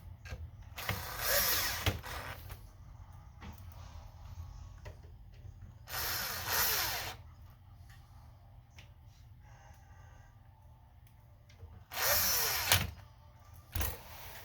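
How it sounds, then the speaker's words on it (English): Green screws being driven into the bottom of an Xbox Series X with a small powered screwdriver, three separate whirring bursts of about a second each, spaced several seconds apart, close and alone. "then we're going to put the screws back in on the bottom"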